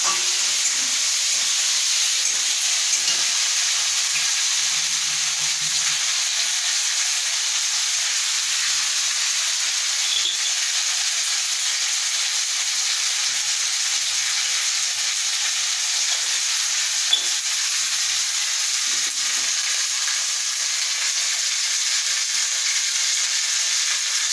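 A paste of cumin and ginger with tomato sizzles steadily in a pan for a Bengali shol fish curry, a continuous bright hiss of frying that stays even throughout, with no voices.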